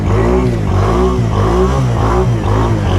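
A four-wheeler ATV on half choke idles roughly and struggles to keep running, a loud, close, uneven engine sputter that surges and dips in a repeating rhythm.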